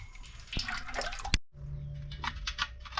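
Water is poured from one cooking pot back into another, a short splashing, trickling pour heard up close and quiet, interrupted by a sharp clink of metal midway before the flow resumes.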